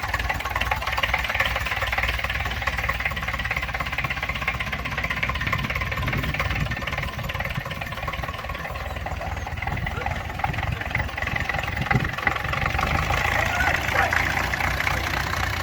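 A homemade tractor engine runs continuously with a rough, knocking idle-like chug, loud and close throughout, with occasional voices underneath.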